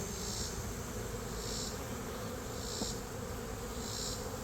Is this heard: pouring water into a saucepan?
no